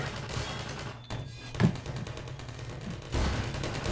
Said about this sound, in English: they keep throwing fucking grenades